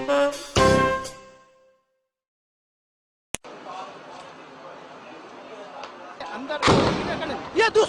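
A single sharp blast cracks out of near silence, followed by rumbling crowd noise and a heavy thud near the end.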